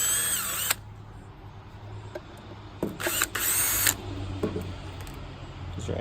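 A power drill or driver whirs in short bursts while taking out the machine bolts that hold the end of a hot tub pump, with quiet mechanical handling between the runs.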